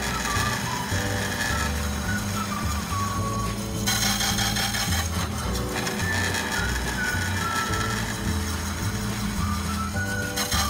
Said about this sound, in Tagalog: Gumamit ako ng slicer machine pero pwede din kayong gumamit ng kutsilyo o di kaya cutter.